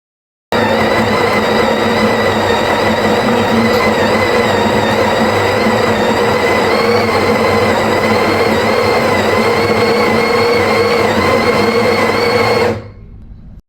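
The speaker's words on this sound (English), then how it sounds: "I put the portafilter in the grinder slot and you press it." The built-in bean grinder of a home espresso machine grinds coffee straight into the portafilter with a loud, steady, close mechanical whir. It runs unbroken for about twelve seconds, then cuts off suddenly.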